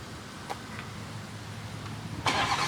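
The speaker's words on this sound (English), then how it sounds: "let's get you guys a cold start." A tuned 460-horsepower BMW M240 engine cranks and fires in a lukewarm start: a couple of short clicks, then a sudden loud catch near the end, with no talking.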